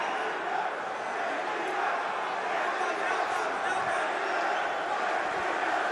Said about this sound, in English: Crowd getting behind Giacomo Della Maddalena here under 2 minutes, round 4.